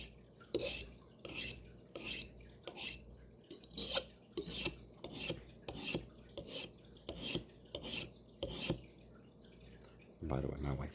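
A kitchen knife is drawn over a sharpening stone in about a dozen evenly spaced rasping strokes, each a sharp scraping hiss, followed by a brief rub at the end.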